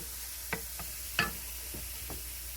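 Minced garlic cooking in a pan during spaghetti squash prep, a soft low sizzle with a few sharp clicks and taps of a utensil scattered through, fairly quiet and close.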